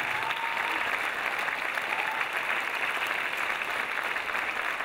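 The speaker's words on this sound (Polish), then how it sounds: "Duże brawa dla Patryka." Concert audience applauding a composer as he is welcomed onto the stage, a steady, dense wash of clapping from a large crowd that holds evenly throughout at moderate loudness.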